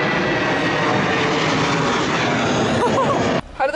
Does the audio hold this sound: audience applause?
no